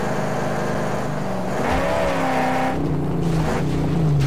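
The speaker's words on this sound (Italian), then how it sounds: "Senti che fatica che fa la macchina." A car engine strains uphill in the video game Mad Max, a loud, steady droning growl that pitches up and down as it labours, with no talking over it.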